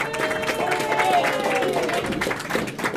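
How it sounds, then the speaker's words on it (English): Crowd at a bowling tournament in an ABC North alley applauds the handicap finalists. The sustained clapping runs under voices and the reverberant hum of the lanes. "We'd like to take one more nice round of applause for our 6 handicap finalists."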